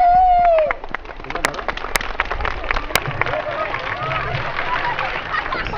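An audience at a Viqarunnisa Noon School and College event applauds after a song, with dense, steady clapping and crowd noise following a brief whistle-like tone, and voices mixed in.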